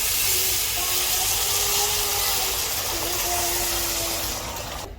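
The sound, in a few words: boiling water poured into fried rice for biryani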